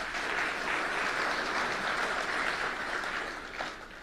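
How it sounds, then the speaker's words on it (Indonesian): Audience applause welcoming Indonesia's president as a guest at an event on gold reserves, a dense, even crowd clapping that holds steady and eases slightly near the end. "Tepuk tangan buat beliau."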